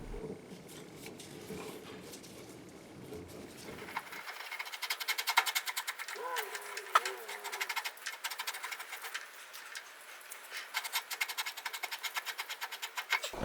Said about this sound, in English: At the very end here, I swap on a regular die handle so I can finish the threading